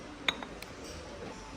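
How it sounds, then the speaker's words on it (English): Glass Tupperware containers clink together in an IKEA store, a few brief, bright knocks with faint background murmur. "Oh, glass Tupperware."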